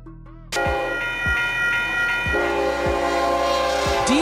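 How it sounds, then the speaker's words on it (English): A diesel train passes close by, its horn sounding loudly over the rhythmic clatter of wheels over rail joints, with no one speaking. "Diesel train. The independent one. It runs on diesel fuel"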